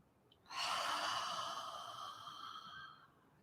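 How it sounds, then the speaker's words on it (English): A single long, deep exhale during a gentle breathing and stretching session, a soft airy rush that swells quickly and slowly fades over about three seconds, close and quiet. "let that big ol' exhale go"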